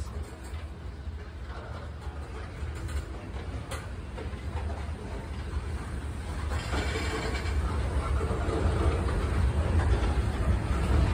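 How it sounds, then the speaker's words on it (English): An Amtrak train passes at a distance, its low rumble and rail noise steady at first and then slowly swelling louder toward the end, with no voices over it. "There's absolutely no freaking way that train made that much noise."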